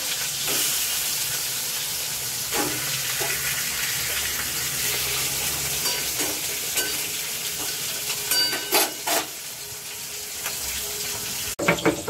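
Close, steady sizzling of turmeric-rubbed fish frying in hot mustard oil, a hissing crackle with occasional louder pops and spatters, and no voices.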